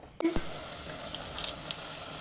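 Tomato frying in a pan for tomato rice, a thump as it goes in, then a steady close sizzle with scattered faint spits and crackles.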